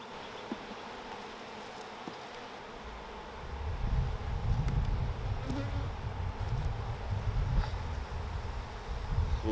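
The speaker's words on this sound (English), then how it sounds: "These are some little bees here." Honey bees buzz around an open hive during a fractional split, a dense continuous drone close by that swells and stays loud through the second half.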